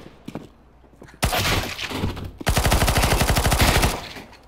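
Video game gunfire: a loud burst of shots with a shattering crash, then rapid, evenly spaced machine-gun fire rattling close and steady for over a second before stopping.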